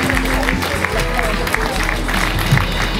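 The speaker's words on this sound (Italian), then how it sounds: "un applauso a Davis, grazie" Audience at a regional beauty pageant prefinal applauds, a busy crowd clapping with a low hum and some murmuring voices underneath, fairly loud and continuous.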